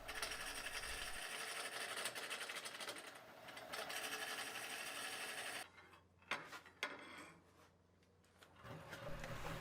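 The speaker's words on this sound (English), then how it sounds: "I'm using my Easy Wood Tools gooseneck hollower, and I'm getting in behind the rim" A gooseneck hollowing tool cuts inside a walnut vase spinning on a lathe, a rough whirring scrape that runs continuously for several seconds, then breaks into short intermittent cuts and pauses with no talking.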